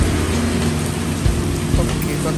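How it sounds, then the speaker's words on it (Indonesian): Steady rain falling outdoors, a dense continuous hiss and patter with a low rumble underneath and a couple of soft thumps, filling the whole stretch without pause. "Ini mumpung cuacanya juga sedang hujan"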